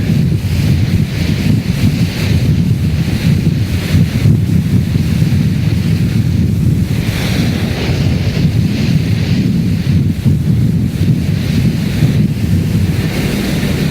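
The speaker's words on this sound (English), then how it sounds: "This is a very angry sea." Stormy seas of the Drake Passage heard from a ship's bridge: a loud, continuous roar of wind and crashing waves with surging gusts and heavy microphone buffeting, and no voices.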